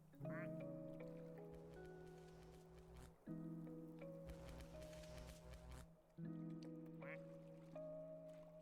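Cartoonish video game duck quacks sit over a steady, bright game soundtrack, repeating now and then through the music at low volume.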